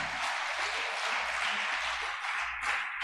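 A church congregation applauds for Jesus during a conference sermon, producing a dense, steady wash of clapping that holds at an even level from start to finish.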